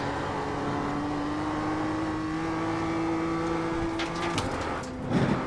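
A race car engine in a racing video game climbs steadily through third gear as the throttle is gradually opened, a loud sustained whine that cuts off near the end before a brief burst of noise.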